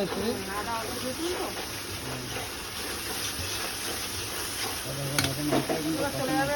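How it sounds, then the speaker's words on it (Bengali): Spices frying in a pan for mutton curry, with ginger and turmeric added, give a steady close sizzle and hiss with occasional stirring scrapes, heard under ongoing talking. "এখন মশলাটা ফ্রাই করা হবে"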